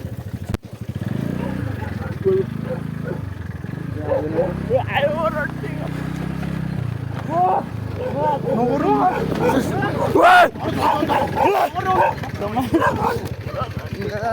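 A dog barks and yips repeatedly over an engine's steady rumble, with people talking throughout.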